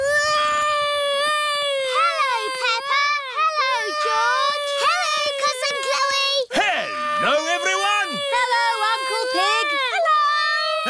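A cartoon baby in Peppa Pig cries loudly and continuously, wailing in long rising and falling howls with brief catches of breath, close and insistent.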